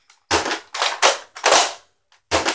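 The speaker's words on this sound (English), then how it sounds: "here we go with this gun" A Nerf toy dart blaster fires with sharp popping shots: about six quick snaps in a loose, uneven rhythm, loud and close, with short silences between them and no talking.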